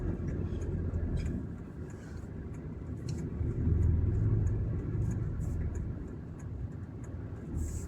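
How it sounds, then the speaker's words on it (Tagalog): Road traffic rumbles in a low, continuous wash, swelling slightly midway, with faint scattered higher sounds above it. "Grabe yung traffic."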